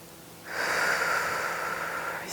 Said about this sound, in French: Et de prendre juste quelques respirations ensemble